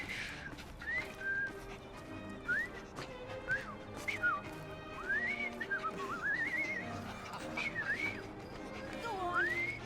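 Desmond whistles a wandering, tuneful melody in Assassin's Creed Syndicate, a string of rising and falling notes over quiet game ambience and music.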